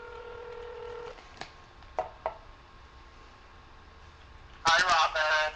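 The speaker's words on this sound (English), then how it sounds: "let's get Tom Zuba on the phone" A telephone dialing out to a guest on a live talk show: a steady tone, then several short separate keypad beeps, and near the end a rapid burst of dialing tones, close and clear.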